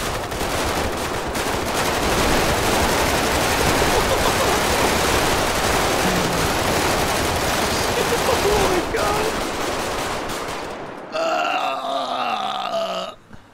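Sustained rapid gunfire from a GTA 5 roleplay shootout, dense overlapping bursts roaring loudly for about ten seconds before abruptly cutting out, followed by a brief tonal sound.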